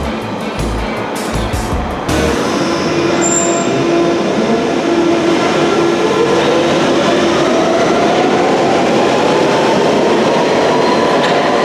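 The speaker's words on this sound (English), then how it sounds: "So I'm going to jump on the train at Ealing Broadway right now" A London Underground Central Line train rolls along at steady speed, a loud continuous rumble with rail clatter and a rising whine as it accelerates, heard close from inside the carriage with no talking.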